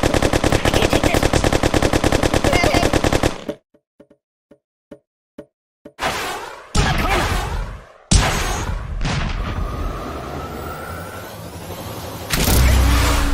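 Rapid gunfire at a shooting range in the mobile game Kick The Buddy: a dense loud burst of shots, then a series of spaced single pops, then more loud crashing bursts.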